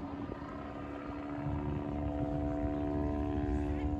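A Westland Wasp helicopter at an air show flying display produces a steady droning rotor and engine hum with a low tonal whine, growing slightly louder midway, under wind noise.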